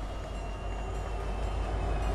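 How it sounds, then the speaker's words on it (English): A train rolls past in Fortnite, a steady, loud rumble of rail cars and wheels filling the scene with continuous low-heavy noise, no voices over it. "I'm not catching that train."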